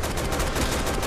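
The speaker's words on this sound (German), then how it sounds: "Ah, da schießt irgendwas." Rapid gunfire in Resident Evil 6 on the rooftops of Waiyip, sustained and steady for a short burst, fairly loud and slightly distant, with no voices.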